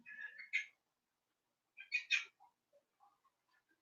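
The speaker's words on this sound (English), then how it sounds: "you can listen to the bird chattering in the background" A pet bird chatters in short bursts of chirps and squawks, with two louder flurries separated by silence and a few faint peeps trailing off, fairly quiet in a calm indoor room.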